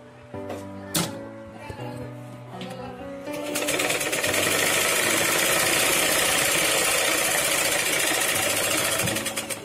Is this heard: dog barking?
no